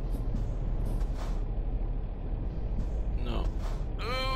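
An air release hiss from a Volvo 730 truck's brakes in American Truck Simulator, a few breathy bursts over steady engine rumble, ending in a sharper hiss near the end, with a voice talking over it.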